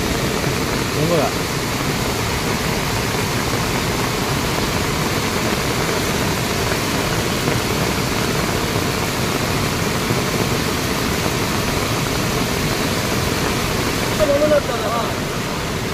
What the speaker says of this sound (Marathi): तर इकडे पाणी मोरी वरून जात आहे